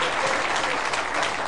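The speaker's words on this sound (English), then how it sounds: "Big round of applause, everybody." Steady, dense applause from a studio audience at a televised game show, greeting a contestant; loud, continuous clapping with no break, and no talk over it.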